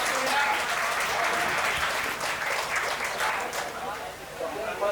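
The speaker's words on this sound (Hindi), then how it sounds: "सबसे पहले तो अल्फाज तेरे मेरे की टीम के लिए जोरदार तालियां होनी चाहिए ना।" An audience at a poetry stage event breaks into loud, sustained applause, dense clapping from a crowd throughout with a voice faintly audible beneath it.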